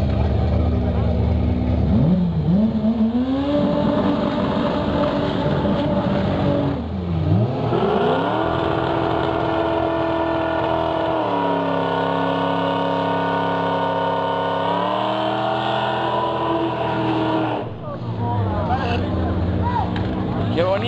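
Honda Civic drag race car accelerating hard on a 12-second-class drag strip at a carnival cup event in Barranquilla, its engine revving and rising in pitch through several gear changes, loud and continuous with voices talking over it.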